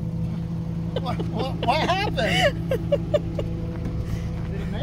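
A 1986 Subaru Brat driving up an unimproved dirt road, its low steady engine drone running underneath while people talk over it.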